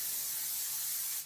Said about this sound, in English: a little bit of non-stick spray